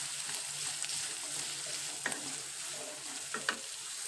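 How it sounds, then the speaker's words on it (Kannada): Chopped cucumber and carrot fry in a little oil for a wheat-flour breakfast dish, making a soft, even hiss with a few faint clicks of a spoon against the pan. "ಅದನ್ನು ಸ್ವಲ್ಪ ಎಣ್ಣೆಗೆ ಫ್ರೈ ಮಾಡಿಕೊಂಡು"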